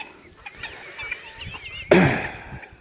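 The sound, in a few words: chickens clucking in their pens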